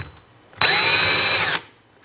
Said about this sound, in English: We're going to drill through the entire wall first at that slightly downward angle